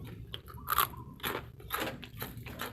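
Crispy deep-fried chicken feet in a crunchy batter are bitten and chewed up close, giving several sharp crunches with crackly chewing between them.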